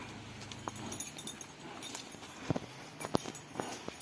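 Sparse, uneven hoof clops of a draft mare on hard ground, a few at a time, over a low outdoor background hum.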